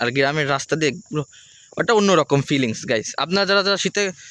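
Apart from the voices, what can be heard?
crickets chirping in the evening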